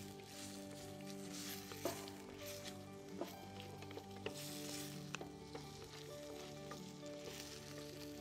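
Peppers and mixed vegetables sizzle steadily in a hot pan, with occasional clinks and scrapes of stirring, in a quiet kitchen with no talking.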